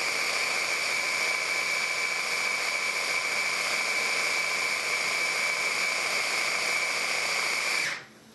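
A blender motor runs steadily and loudly, churning a thick frozen banana and chocolate non-dairy dessert, with a constant high whine that cuts off abruptly near the end.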